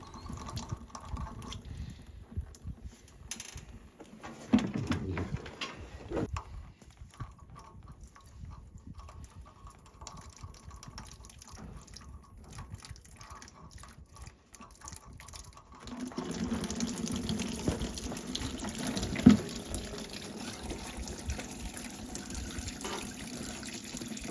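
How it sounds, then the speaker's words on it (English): Antifreeze coolant drains from the radiator of a Farmall F-14 tractor into a bucket, a soft continuous trickle of liquid that grows steadier and louder partway through. "we can let the coolant drain into a bucket"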